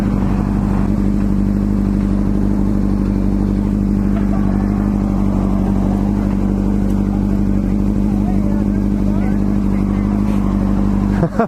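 A motorcycle engine idles and revs steadily up close, a continuous buzzing drone with rattling clatter, loud and unbroken, with no clear speech over it.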